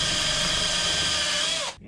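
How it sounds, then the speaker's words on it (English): A power drill bores steadily through the wall of a 2019 Escapade Backcountry camper trailer, a loud continuous whine that drops away abruptly near the end as the bit breaks through. "so we just need to drill underneath of that."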